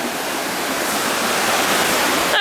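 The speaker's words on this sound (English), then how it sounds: "Did you touch the smallest waterfall?" Small waterfall in Japan's Mt. Fuji Five Lakes and Hakone area, a steady, loud broadband rush of falling water close by, unbroken throughout with no voices.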